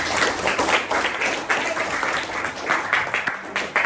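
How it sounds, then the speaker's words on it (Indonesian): A classroom of students applauding a classmate, a dense burst of close clapping lasting several seconds with some voices mixed in. "beri aplaus buat kawan kamu"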